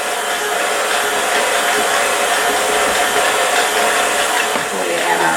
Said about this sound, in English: now we want to just mix this up really well